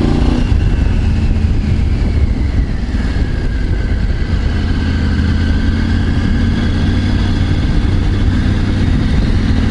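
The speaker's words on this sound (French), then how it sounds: "On a plus l'impression aussi d'avoir vraiment un moteur 3 cylindres par rapport à l'ancienne." A 2024 Triumph Tiger 900 GT Pro three-cylinder motorcycle engine runs loud and close for nearly ten seconds, a continuous throaty drone with a slowly rising pitch as it pulls under load, mixed with steady wind rush.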